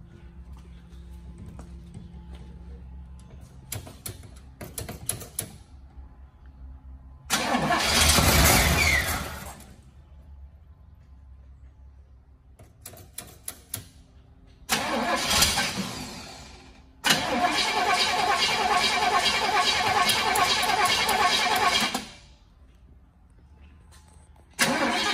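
A 1968 Chevrolet Impala convertible engine cranks in short bursts, then catches and runs roughly for several seconds before dying, followed by a longer steady run after another crank; close and loud with no talk.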